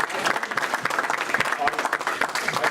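Audience applause at a Rotary meeting, a brief burst of steady, moderately loud clapping from a room of people.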